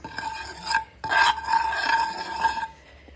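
Fish is mixed with chili, turmeric and salt in a vessel, giving scraping, rubbing strokes in uneven bursts. The sound is close, and a short pause breaks it up. No one speaks.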